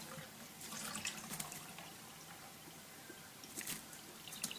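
Water poured from a tap-like stream into a big drinking glass, a steady close splashing trickle that swells and fades over a few seconds with no voices.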